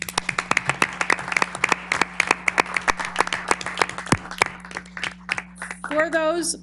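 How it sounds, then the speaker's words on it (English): A council meeting audience breaks into applause, a lively spread of individual claps from a modest crowd over a steady background hum, thinning out before a voice starts speaking at the end. "I do believe that that deserves a round of applause"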